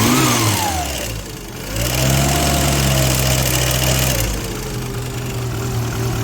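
A classic Mini car engine runs steadily and loudly, its pitch dipping and rising slightly as it settles into a rough, uneven, slightly tappety idle, likely from a worn timing chain.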